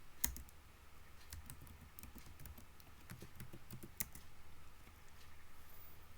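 Keys tapped on a computer keyboard to enter a terminal command on an Ubuntu server, heard as faint, scattered clicks with a couple of sharper presses, close by in a quiet room.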